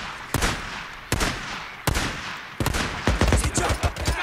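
Rapid gunfire in the video game Days Gone: loud, close shots crack at irregular intervals, then a denser flurry of bursts comes toward the end.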